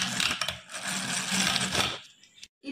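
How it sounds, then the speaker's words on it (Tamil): Hand-held egg beater whipping chocolate cake batter in a bowl, giving a steady, busy rattling whir close by that runs continuously before stopping abruptly near the end. "நல்லா எக் பீட்டர் வச்சு ஒரு 5 minutes இந்த மாதிரி பீட் பண்ணனும்."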